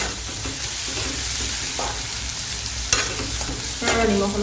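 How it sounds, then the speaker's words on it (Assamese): Carrots, French beans and other vegetables for pulao fry in a pan with a continuous sizzle while a spatula stirs and scrapes, with a few sharper knocks of utensil on metal. "আমি এনেকৈ ধুনীয়াকৈ লৰাই মেলি ভাজি থাকিম আৰু"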